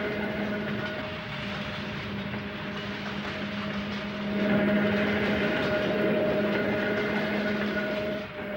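An electric railway train in Contra Costa County rolls past with a continuous rumbling drone and steady tonal hum, swelling slightly louder halfway through as it draws nearer.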